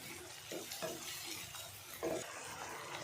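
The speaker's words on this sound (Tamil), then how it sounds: "இதெல்லாம் சேர்த்து நல்லா வதங்கட்டும்" Chicken pepper fry sautéing with yogurt in a pan, soft sizzling under a few scraping stirs and light clinks of a utensil against the pan, faint and close, no speech.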